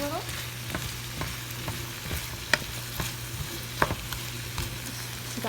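Bacon fries in a pot for potato soup, a soft steady sizzle broken by scattered pops and crackles, fairly quiet and close, with no talking.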